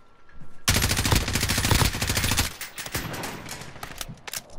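Gunfire erupts in a video game shootout, a dense rattling automatic volley up close that tapers into scattered single shots, with no talking over it.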